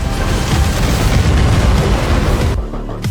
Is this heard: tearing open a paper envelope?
no